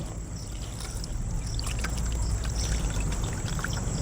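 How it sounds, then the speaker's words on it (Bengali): Cold water poured over cooked sago balls to rinse them, a continuous close gushing pour with a low rumble running steadily throughout, no talking. "একইভাবে ঠান্ডা জল দিয়ে এগুলো ধুয়ে নিচ্ছি।"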